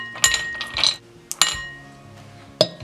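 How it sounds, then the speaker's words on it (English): Ice cubes dropped into a large bowl: a few sharp, bright clinks and clatters in separate bursts, close and fairly loud, with brief ringing between drops and no talk. "In a large bowl, add ice cubes."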